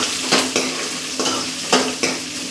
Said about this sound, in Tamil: இப்போ சின்ன வெங்காயம் இதில் சேர்த்துறோம்.